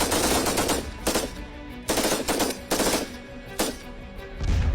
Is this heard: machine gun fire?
yes